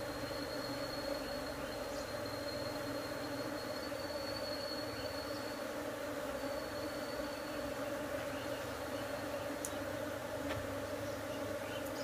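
Honeybees hum steadily around opened beehive frames holding honey during a hive split at an apiary, a continuous close, even buzz with no voices.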